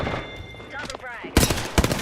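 Video game gunfire erupts in a loud, dense burst near the end, after a stretch of background voices and game noise.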